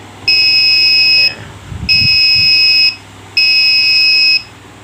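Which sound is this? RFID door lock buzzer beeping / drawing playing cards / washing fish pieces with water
RFID door lock buzzer beeping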